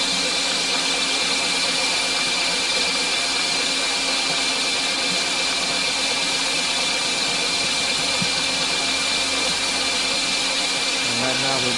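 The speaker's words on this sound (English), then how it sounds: "So now we're forming a tube, and it's going to go right through the forming head there" A Model 9112 tube corrugating machine forming angular-design tube at a slow 500 RPM runs with a steady, loud mechanical drone and hum throughout, someone narrating over it.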